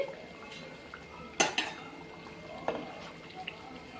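Fried nimki are lifted out of hot oil with a metal utensil, producing a few sharp scrapes and clinks against the pan amid a low, quiet kitchen background.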